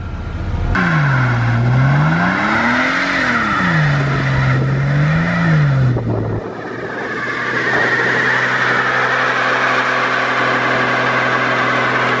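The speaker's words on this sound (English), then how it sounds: "You still want to do a burnout? We're doing right out here." A turbocharged Mazda Miata revs hard for a burnout, its engine note rising and falling in loud swells before settling into a steady, sustained roar.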